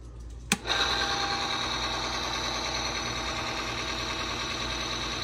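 Oil friction test machine running on UHP Innovation racing oil, starting with a sharp click and then holding a steady, fairly quiet mechanical whine and hum throughout.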